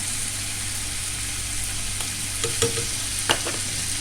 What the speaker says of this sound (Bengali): রসুনটাকে একটু নেড়ে নিই।